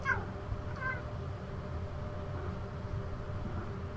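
A pet cat meows close to the microphone, two short rising cries near the start, then a low steady hum of the room fills the rest.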